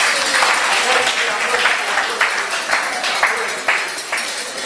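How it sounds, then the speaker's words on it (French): An audience claps steadily at a bishop's 79th anniversary celebration, with dense, continuous applause and mixed voices running throughout. "En approchant, nous applaudissons aussi."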